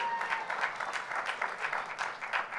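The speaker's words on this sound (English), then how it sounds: "Give her a round of applause." Applause at the Innovation In Education Awards ceremony in San Diego: a soft, distant, continuous patter of many hands clapping, steady throughout with no voices on top.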